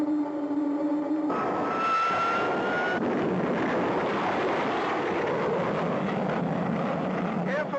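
A cartoon sound effect of a rocket's first stage dropping away: a loud, continuous roaring rush with a rising whistle, followed by a broad, noisy rumbling whoosh that carries on steadily to the end.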